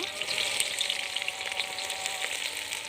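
Sliced onions frying in hot oil for a village-style chicken kosha, giving a steady dense sizzle with scattered crackling pops, close and even throughout with no talk.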